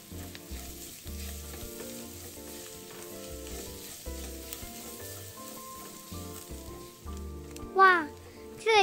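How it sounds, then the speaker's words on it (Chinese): Dried shrimp, thin strips of Chinese sausage and minced garlic stir-fry in hot oil, sizzling steadily with the scrape and clatter of stirring throughout, then a brief squeaky flourish near the end. "炒至虾米溢出香气后，再将腊肠加入，腊肠一样切成细条状。"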